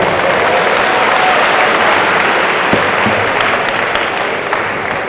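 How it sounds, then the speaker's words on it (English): Audience at a homecoming university convocation at Albany State University applauds steadily, a dense wash of many hands clapping from a large crowd, sustained throughout and gradually easing toward the end. "let's give him a round of applause"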